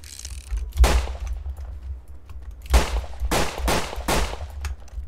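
Revolver gunfire in a Wild West video game, a handful of sharp, booming shots spaced irregularly, with a quick cluster of three near the end over a low rumbling background.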